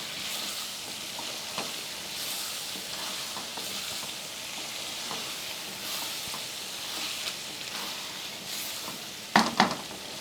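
Masala for a homemade chicken biryani sizzles steadily in a pot as it is stirred, with a continuous frying hiss, soft scraping strokes and a couple of sharp metallic clinks near the end; no one speaks.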